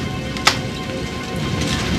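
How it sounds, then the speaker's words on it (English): Steady rain falling during a thunderstorm, a continuous broadband hiss with one brief sharp crack near the start, otherwise even and unbroken, no voices. "It's just thunder. It's probably a long way off."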